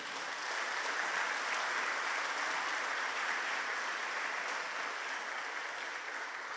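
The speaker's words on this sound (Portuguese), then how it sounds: "dá um aplauso ao Senhor" Church congregation clapping together in praise, a steady, even wash of applause sustained at a constant level throughout with no talk over it.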